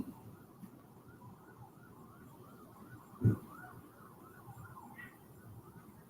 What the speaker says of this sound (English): Oh, I'm hearing emergency sirens.